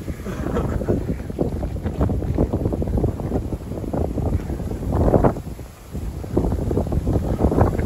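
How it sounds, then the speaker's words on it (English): Gusty wind buffeting the microphone on a riverbank carp-fishing spot by the Trent, loud rumbling bursts that swell and briefly drop, close and continuous with no talk. "You hear that wind?"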